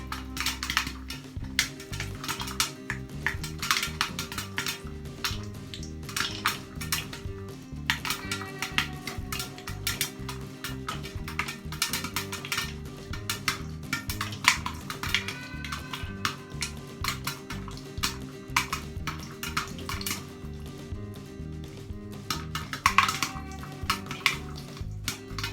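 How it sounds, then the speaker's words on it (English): Corn kernels popping in a pot on a cooker over lowered heat, giving dense, continuous crackling pops with a steady low rumble and clatter underneath, close and fairly loud throughout. "So when the corn stop popping, it's still popping."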